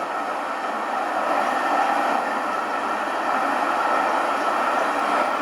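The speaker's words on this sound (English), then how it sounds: "it'll speed the train up, which we're going to be doing right now" Steady broadband rumble of a passenger train, an ALP-46 locomotive with Comet cars, accelerating at around 80 mph, a continuous loud roar with faint rhythmic rail noise and no voices.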